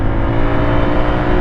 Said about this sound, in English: My bike is screaming